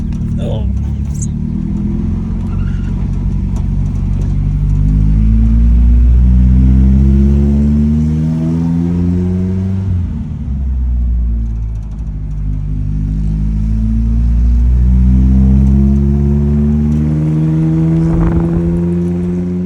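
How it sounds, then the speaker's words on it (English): An old minitruck with a blown head gasket revs its engine in loud, rough, surging bursts that rise and fall repeatedly, with a low rumbling tone close to the listener. "That's got a blown head gasket."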